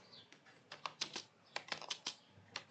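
Typing on a computer keyboard while filling in a Google form, with close, crisp key clicks arriving in irregular bursts and short pauses against a quiet room, with no talking.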